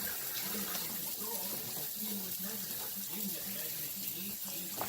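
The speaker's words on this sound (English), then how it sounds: "Okay, wash my hands." A kitchen tap runs steadily into a sink while hands are washed, a continuous close splashing rush with faint voice-like sounds mixed in.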